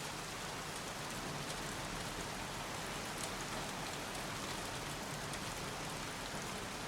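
Steady rain falling in the video game Heavy Rain, a dense, even wash of drops hitting surfaces that holds at the same level from start to end, with no voices over it.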